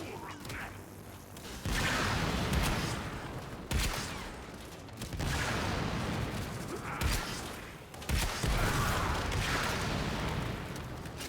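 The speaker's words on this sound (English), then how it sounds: "just made a remote grenade launcher that I haven't shot anything with yet" Remote grenade launcher firing in Warframe, several loud blasts with whooshing, crashing bursts spaced a couple of seconds apart, each followed by a sustained rumbling tail.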